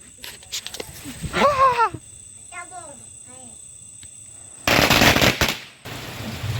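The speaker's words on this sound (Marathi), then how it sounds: "आपले फटाके पण फोडून झालेत" A few sharp cracks at the beginning, then animal-like whining calls, a pause, and a loud burst of crackling firecracker pops before fading, at a village Diwali celebration.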